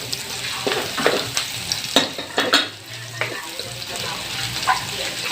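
Garlic frying in a pan for papaitang baka hisses under intermittent stirring scrapes and clinks of a utensil, close up, with a few sharper knocks along the way.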